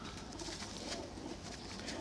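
A big pair of Kamagar pigeons coos steadily and close by, soft throaty calls repeating over a continuous rushing background without pauses.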